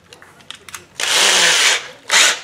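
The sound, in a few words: power drill with a 1/16 inch drill bit, making a duckling lure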